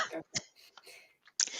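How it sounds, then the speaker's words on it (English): During a talk on resilience for women in law, a speaker gives a few quiet, short coughs and throat-clearing sounds, close to the microphone, with brief pauses between them. "Sorry, I need to cough."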